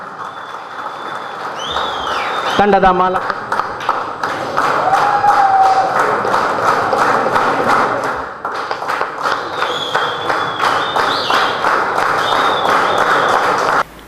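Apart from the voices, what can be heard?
loud audience clapping and cheering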